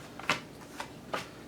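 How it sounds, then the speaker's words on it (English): Tarot cards shuffled loosely by hand in three short riffling bursts separated by brief pauses, close and fairly quiet. "let's shuffle up these cards."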